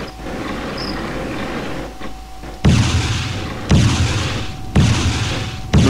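An anti-air tank fires missiles in the video game Battlefield Desert Combat, three loud booming launches about a second apart, each one sharp and followed by a rumbling tail over steady background noise.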